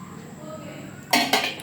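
A plate lifted and set into water during a buoyancy classroom demonstration, heard as a couple of bright clinking clatters after a quiet stretch.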